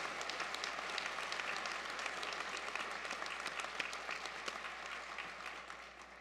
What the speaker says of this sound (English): please join me in another round of applause for all that have helped you to this point